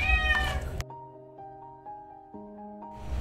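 Several cats meow in a clear, tonal series of calls, one after another, with a louder cry near the start and a lower drawn-out meow later, all close by in an otherwise quiet space.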